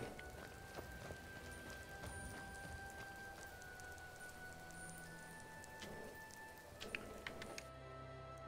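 Rain falls steadily in the video game Skyrim, a soft, even hiss of drops on surfaces with faint rustles and footsteps mixed in, and no talking.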